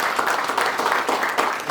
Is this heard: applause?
yes